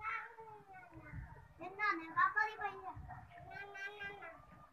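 A cat meows repeatedly in drawn-out, whiny cries, fairly close, while a voice chatters softly in the background.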